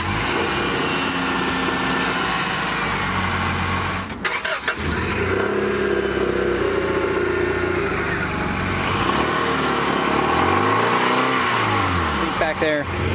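Engine of a 1997 Acura CL running after an exhaust manifold gasket replacement, a steady idle with a brief rev and some clatter, heard close up with people talking over it.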